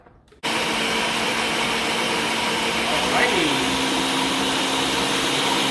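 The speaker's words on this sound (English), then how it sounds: "if I can put this on the blender correctly, we will blend this up." A blender whirring through granola ingredients, starting abruptly and running as a steady loud motor hum with a brief pitch dip as the load shifts, heard alone.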